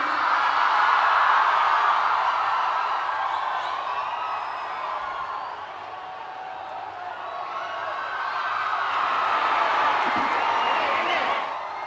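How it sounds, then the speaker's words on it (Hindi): A large crowd at a Prime Minister's event in Visakhapatnam gives sustained applause and cheering, a steady roar that dips slightly in the middle, then swells again and tails off. "एक बार जोरदार तालियां माननीय प्रधानमंत्री जी के स्वागत में।"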